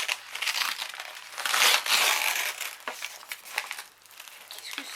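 Paper crinkling and crushing as a mailed craft package is torn open by hand, loud close rustling in bursts that fade toward the end.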